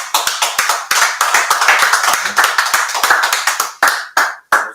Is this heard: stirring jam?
no